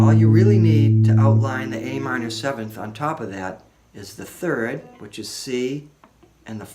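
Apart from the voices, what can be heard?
No everyday noise stands out behind the speech.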